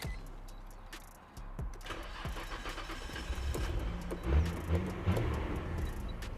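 Nissan Skyline GT-R R34 V-Spec starting up: a brief cranking burst catches into an idling engine that settles into a steady mid-pitched rumble with small blips, close by, with no talk.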